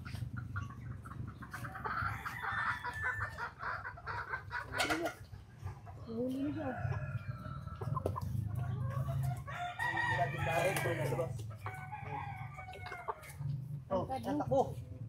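Chickens cluck and a rooster crows repeatedly over a steady low hum, with people talking in the background.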